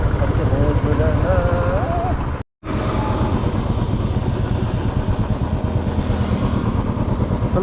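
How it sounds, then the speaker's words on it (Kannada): Motorbike ride toward Shivagange hills: a steady, close engine drone with wind rush that cuts out briefly for a moment, then resumes just as strongly. "ಅದು 42 ನಿಮಿಷ ಬೈಕ್ ರೈಡು"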